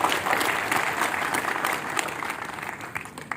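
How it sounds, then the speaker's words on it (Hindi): An audience at a community awards ceremony gives a sustained round of welcoming applause, a thick steady wash of clapping from many hands that tapers slightly toward the end, with no voices on top. "जोरदार तालियों से आपका स्वागत करें"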